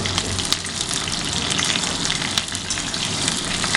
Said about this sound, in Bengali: আলুগুলো কপির সাথে দিয়ে দেওয়া হচ্ছে এবং ভালো করে নাড়িয়ে নেওয়া হচ্ছে